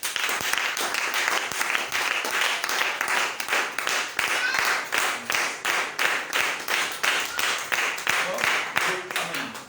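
A seminar congregation claps in a steady, rhythmic burst of many hands, loud and close, with voices calling out beneath the applause.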